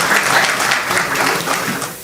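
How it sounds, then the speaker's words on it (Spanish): A burst of thick, steady applause from a conference audience welcoming a speaker at an urban planning panel, loud and continuous for a couple of seconds. "Un fuerte aplauso"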